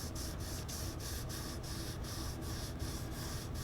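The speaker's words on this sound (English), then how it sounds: "so that I don't burn through when I'm sanding like this" Rhythmic back-and-forth sanding on the nitro finish of a Gibson SG prototype headstock, even strokes repeating about three times per second, close and steady with no talking.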